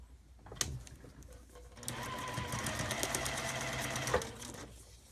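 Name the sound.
sewing machine stitching paper piecing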